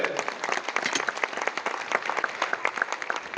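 Audience clapping at a Yakshagana event in the UAE, a dense, steady round of applause from a crowd that carries on evenly throughout with no voices over it.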